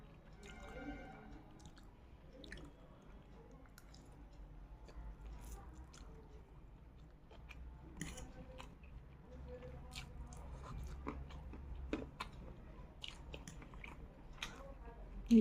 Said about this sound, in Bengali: একটু ম্যাগি খাই।